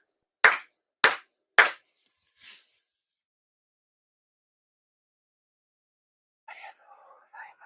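Three sharp, evenly spaced claps ring out in a quiet room during a year-end shrine purification ceremony, followed by a softer fourth sound, then silence and faint whispered speech near the end.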